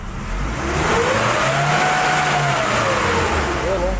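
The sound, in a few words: Nissan Navara D40 engine revving when accelerating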